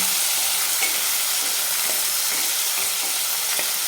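Cowpea pods and potato sizzle together in a pan as a dry Maharashtrian bhaji, producing a continuous loud hissing fry with faint scattered stirring clicks and no talking.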